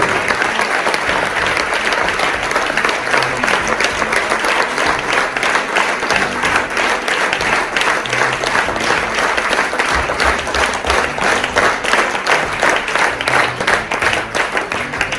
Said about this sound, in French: de faire un applaudissement pour tous les partenaires qui nous ont permis de réaliser ces 3 jours